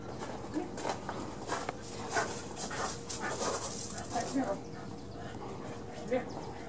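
Several dogs in a kennel pant and whimper in soft, steady bursts over a continuous background din, with occasional cooing birds and a person talking nearby.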